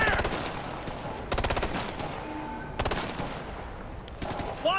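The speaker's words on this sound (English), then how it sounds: "They're on the balcony! It's a sniper! Under heavy fire!" Machine gun fire in the video game Ghost Recon: Future Soldier, with several rapid bursts of automatic shots in quick succession over a noisy battle background, some high electronic tones and faint game voices mixed in.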